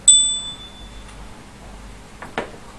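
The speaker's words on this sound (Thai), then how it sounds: "ใครยินเสียงกระดิ่ง" A single bright bell strike opens with a ringing tone that fades within half a second, followed by a quiet pause and a faint soft knock near the end.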